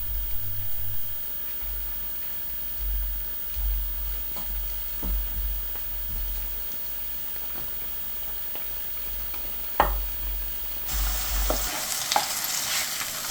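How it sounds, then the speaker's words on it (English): Onions and tomatoes fry in a pan for an 1894 tomato-and-eggs recipe, a soft, continuous sizzle with occasional scrapes and clicks of stirring and a brighter hiss rising at the very end. "I'm just going to warm up the onions and the tomatoes, get them nice and ready."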